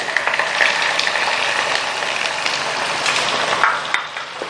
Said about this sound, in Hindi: ये तीनों चीज़ें शामिल करके ना हमने इसको भूनना है अच्छी तरह